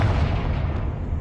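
A Confringo blast spell in Hogwarts Legacy lands as a short, loud booming burst that rumbles on, with a sharp bright crack right at the end.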